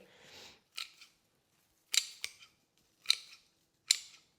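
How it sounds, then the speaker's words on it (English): Scissors snip through flower stems for an everlasting wreath, cutting them down low: four or five crisp, close cuts spaced about a second apart, after a brief rustle of foliage. "we're going to be cutting each of the stems down because you get lots and lots of different side shoots off a big, big stem in these"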